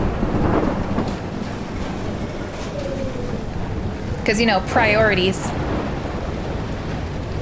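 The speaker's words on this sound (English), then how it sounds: "Do you see the storm? It's a full-on tornado." Heavy storm with a tornado in the Life is Strange video game: a steady low rumble of wind and rain throughout, with someone talking over it.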